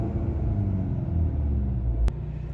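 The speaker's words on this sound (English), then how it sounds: "And I'll rev it up here and see if you guys can hear it in the video." A stock-exhaust 2022 Volkswagen MK8 GTI rumbles steadily at close range, its low engine note holding level before a brief sharp click near the end.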